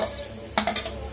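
Onion, chili and salt dropped into hot oil for noodles, with a steady frying hiss and a few sharper stirring scrapes and clatters of a pan midway, close by.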